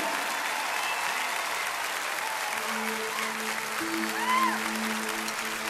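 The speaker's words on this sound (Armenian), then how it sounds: "ծափառությունները ավելի բարձր մեր կամավորներին" A concert audience at a live show applauds its volunteers in a sustained, even roar of many hands, with faint sung or spoken tones rising through the crowd noise.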